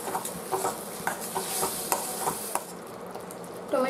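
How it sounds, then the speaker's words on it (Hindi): Tomato puree frying and being stirred in a pan, a soft continuous sizzle with regular light scrapes and taps of the spoon, fairly quiet and close, with no voices. "टोमेटो को अच्छे से फ्राई करेंगे ताकि इसमें से जो टोमेटो का कच्चा स्मेल है वो चला जाए।"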